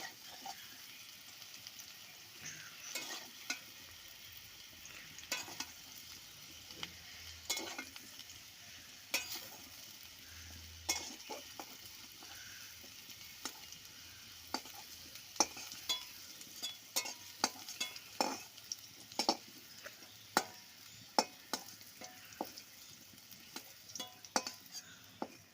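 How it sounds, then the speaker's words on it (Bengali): Jackfruit frying and being stirred in a pan, a soft continuous sizzle punctuated by irregular scraping clicks of a spatula against the pan, close and fairly quiet, with no talking. "এঁচোড়টা খুব ভালো করে আমি লাল লাল করে ভেজে নিয়েছি"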